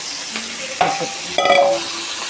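Sliced onion and green chilies drop into hot oil with coconut pieces for a bitter gourd fry, giving soft sizzling under a couple of close clinks and stirs from a spoon against the pan.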